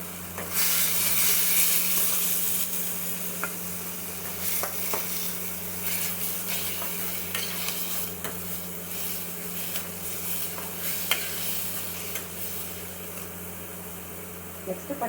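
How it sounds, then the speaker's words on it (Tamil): Onions sautéing with salt in a pan for a meal maker gravy, a steady sizzle and frying hiss with occasional stirring scrapes running throughout, fairly close, with a low hum beneath and faint talk at times. "வெங்காயம் வதங்கிறதுக்கு கொஞ்சம் நம்ம உப்பு சேர்த்துக்கலாம்."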